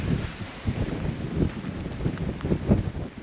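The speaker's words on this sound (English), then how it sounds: "it's so windy and so cold" Steady, heavy wind buffeting the microphone on a cold hike, with low rumbling gusts that swell and fade throughout, and no voices.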